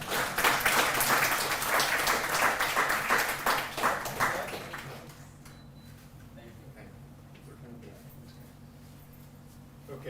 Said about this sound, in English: So big clap.